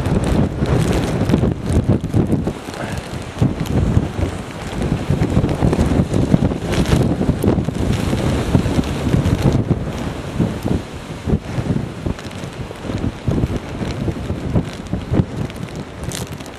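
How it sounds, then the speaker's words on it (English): Strong hurricane wind from Hurricane Irene roars and buffets a microphone outdoors, a loud, continuous rumbling gust with irregular surges throughout and no talking. "that wind is really blowing hard, pushing me a little bit"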